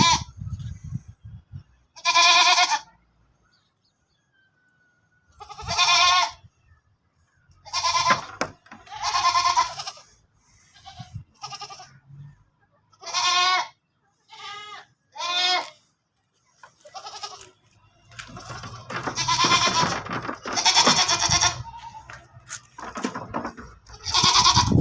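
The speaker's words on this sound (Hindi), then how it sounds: "हमारी बकरी है, ये फॉर सेल है" Goats for sale at a livestock market bleat in repeated loud, close calls separated by pauses, with scattered shuffling and handling noise between them.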